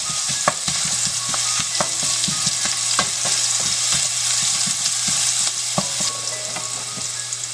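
Cumin seeds, curry leaves, green chili and garlic chutney roasting in a hot pan for fenugreek dumplings give a loud, continuous sizzle with frequent sharp crackles and pops close by.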